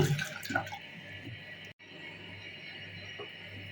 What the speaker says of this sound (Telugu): పెసరపప్పు పావు కప్ తీసుకొని వీటిని శుభ్రంగా వాష్ చేసుకోవాలి